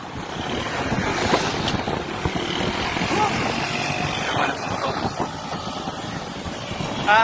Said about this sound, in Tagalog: Kung naririnig ako, yung hampas ng hangin.